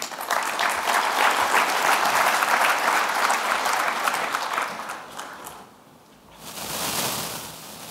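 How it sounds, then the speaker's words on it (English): An audience applauds loudly and steadily at a business tech conference, the clapping dense and sustained before thinning and briefly swelling again near the end. "Ladies and gentlemen, huge round of applause for Donovan Jones"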